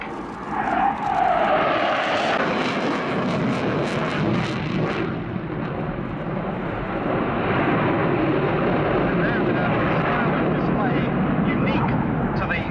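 A French Navy delta canard fighter jet with fly-by-wire controls roars in towards the crowd for an opposition break at an air show, a loud sustained engine rush under a commentator's voice.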